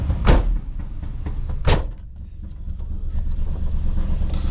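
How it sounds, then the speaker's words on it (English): Power window regulator motors working in a 1985 Buick Riviera with a 5.0L 307 V8, two loud close thumps followed by a steady low motor whir. "Let's get the power window regulators going."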